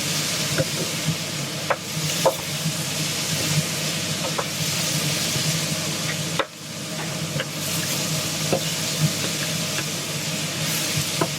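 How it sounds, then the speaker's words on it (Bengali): Courgette frying in a pan with cumin and turmeric, giving a steady soft sizzle with occasional stirring clicks and scrapes, alone with no voices. "একটু জিরা, হলুদ জিরা দিয়ে এটাকে ভালো মতো ভেজে নেব।"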